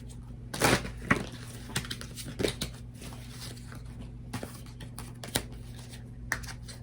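Soft papery riffles and slaps come in short irregular bursts as tarot cards are shuffled nearby, over a low steady hum with quiet gaps between.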